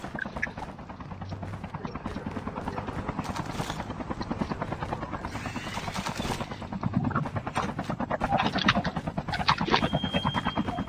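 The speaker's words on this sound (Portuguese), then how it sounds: "Pegar o helicóptero." A loud helicopter rotor in the game Squad thumps steadily throughout, close and continuous, with faint scattered shots and clatter in the background.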